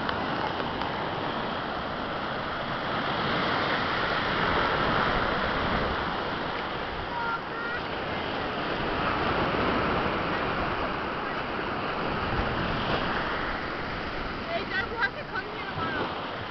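Ocean waves washing onto Kihei Beach on Maui, a steady broad rush of surf with gentle swells and no breaks, heard close and at moderate loudness throughout.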